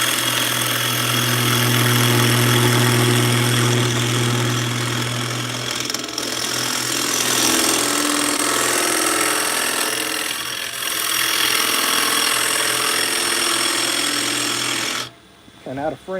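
A wood lathe spins while a carbide turning tool is pushed in at center height, giving a loud sustained droning hum with rough scraping over it for about fifteen seconds, then cutting off.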